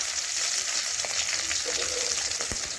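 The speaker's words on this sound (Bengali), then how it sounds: "চার পাশটা একদম মোচমোচে করে আমি ভেজে নেবো" Fish fries in hot oil in a pan, being turned until crisp on all sides: a dense, steady sizzle fills the clip at even loudness, with a few faint clicks and a short sharp tap near the end.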